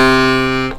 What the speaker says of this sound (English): the low and middle together with 2 reed blocks on,